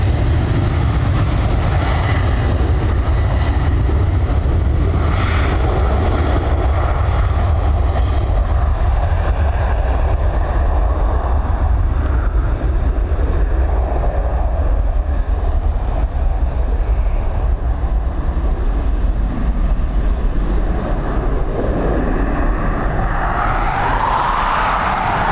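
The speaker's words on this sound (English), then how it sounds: "She's spooling up, she's ready to go" An airliner at Dublin Airport spools up its engines and takes off from runway 10R, a loud, steady, broad roar holding without break throughout, no talk over it.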